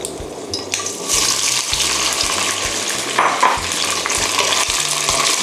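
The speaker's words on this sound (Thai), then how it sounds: "เราก็จะผัดให้มันร้อนจนข้างในแล้วก็กรอบสักแป๊บหนึ่งครับ ระวังน้ำมันกระเด็นด้วยนะครับ" Fish balls, fried wontons and shrimp stir-fried in hot oil, with a loud continuous sizzle and repeated rhythmic scrapes and knocks of a spatula against the pan, heard close up.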